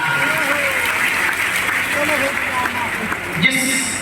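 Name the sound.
audience applause at a religious gathering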